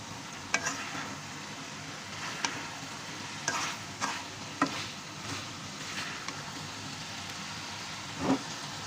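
Meat curry frying in a pan while it is stirred, with faint steady sizzling and scattered soft scrapes and clinks of the spoon against the pan, all fairly quiet and close.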